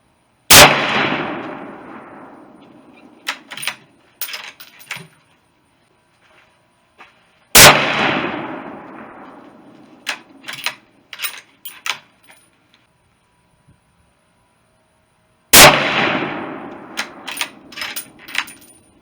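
Three sharp, loud rifle shots from a Ruger American Predator in 6.5mm Creedmoor firing hand-loaded 129 grain Hornady SST rounds, spaced about seven seconds apart, each followed by a decaying echo and a few small metallic clinks.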